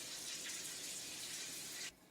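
Water from a pot of cooked pasta is poured off into a sink, making a steady close rushing gush that runs for about two seconds before cutting off abruptly.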